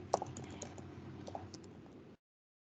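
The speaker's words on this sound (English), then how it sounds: "I simply type the email address, or you can type the name" Quiet keystrokes on a computer keyboard as an email address is typed, a short run of light clicks with one sharper tap near the start, then silence.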